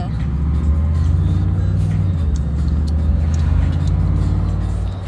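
Blacked-out Toyota Tundra Pro pickup truck driving down the road with windows down, a steady deep engine rumble and road roar inside the cab, loud and continuous.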